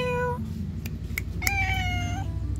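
A stray cat meows outdoors, giving a short cry and then a longer drawn-out wailing meow over a steady low background hum, fairly close.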